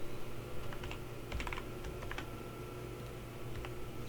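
Someone types on a computer keyboard, sparse clusters of light key taps with short pauses between them, close by and fairly quiet, with no voices.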